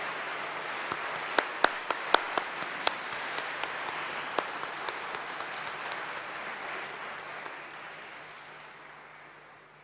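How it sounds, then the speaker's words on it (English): A round of applause from a crowd, steady and full at first, with a few sharp individual claps standing out, gradually fading toward the end. "If you could do that with a round of applause,"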